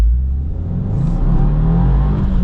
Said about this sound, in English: All right, off we go in the WRX TS.